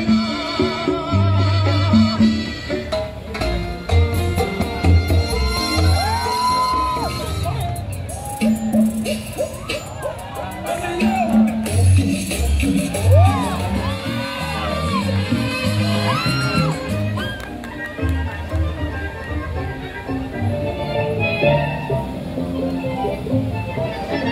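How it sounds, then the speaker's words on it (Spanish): An audience at a Costa Rican swing and bolero cultural event breaks into cheers and shouts over loud music, a lively crowd roar that carries on throughout. "¡Fuerte un aplauso, por favor!"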